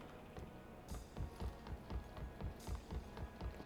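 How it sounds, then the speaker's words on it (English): Player footsteps in PUBG on Xbox One thud in a quiet, steady rhythm, heard alone at close range with soft regular impacts. "You guys can just listen to my footsteps."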